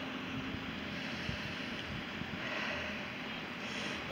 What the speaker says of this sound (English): You can hear the waves lapping.